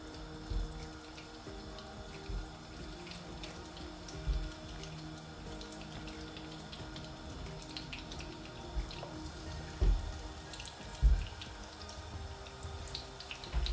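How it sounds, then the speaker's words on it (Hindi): Tuna fish cutlets fry in hot oil in a pan, a steady wet crackle and sizzle with scattered pops and drips, close and continuous without talk. "अब इसके ऊपर हम एक एक करके कटलेट्स डालते जाएंगे।"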